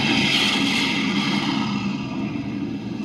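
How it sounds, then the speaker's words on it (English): A 1966 Oldsmobile Toronado engine runs at full throttle on a proving-ground road, giving a steady, loud, even drone that eases slightly toward the end. "Flat out, full throttle,"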